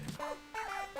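A cat in Introvert's Party Simulator barks like a dog, giving three short, pitched yips in quick succession. They are clear and close, with no talking over them.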